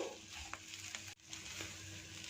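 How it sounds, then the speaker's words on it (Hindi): Potato masala for aloo kachori, with onions, sautéing in a pan over medium heat, a steady broadband sizzle with a few soft stirring scrapes and a brief gap midway. "2 मिनट तक मीडियम हीट पे अच्छी तरह से आलू के मसाले को भून लिया है"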